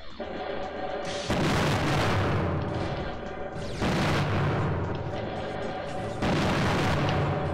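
Powerful weapon firing in the robot battle game Custom Robo: Battle Revolution, three huge booming blasts roughly every two and a half seconds, each a loud sudden burst decaying into a sustained roar.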